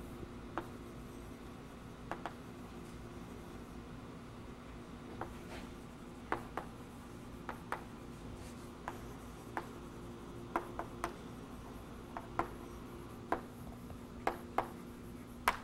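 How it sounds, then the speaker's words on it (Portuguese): Chalk or pen writes on a board during a doctoral fluid dynamics lecture. Faint, scattered taps and short scratches recur irregularly over a quiet room hum, with no talking. "Vou escrever isso aqui."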